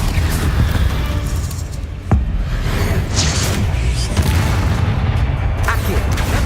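A Confringo blasting spell in the Hogwarts Legacy video game lets off a sharp explosive burst partway through, over a dense, loud bed of game ambience and music.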